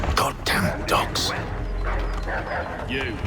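Dogs bark and yip in an Assassin's Creed 3 Remastered combat scene, several sharp yelps near the start amid shouting soldiers and a steady game backdrop.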